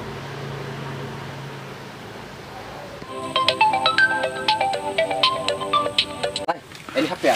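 Mobile phone ringtone bursts out loud and close after a few seconds of room noise, a bright repeating electronic melody, with a voice speaking briefly near the end.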